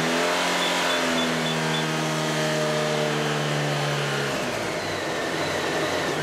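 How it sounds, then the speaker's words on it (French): A motorcycle engine is held at raised revs during a diagnostic test of its charging system, giving a steady, close drone. Near the end the revs drop away. No one speaks. "Augmenter les gaz de nouveau et rappuyer."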